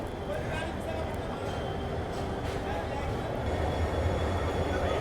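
Visakhapatnam Gandhidham Express hauled by an EMD WDG4 diesel locomotive at Visakhapatnam Junction, a steady low rumble of the train with a person talking over it.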